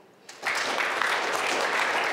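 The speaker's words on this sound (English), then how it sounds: "I want you to start clapping." A standing audience at a college speaker-series talk breaks into dense, sustained applause that swells after a quiet start and holds steady to the end.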